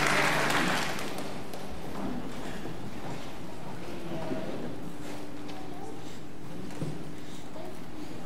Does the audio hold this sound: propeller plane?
no